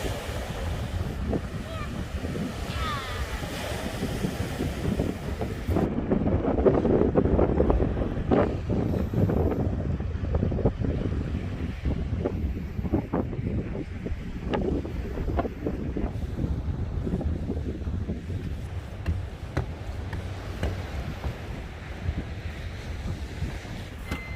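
Sea waves crash and wash continuously while strong wind buffets the microphone, loud and close throughout, with no clear talk.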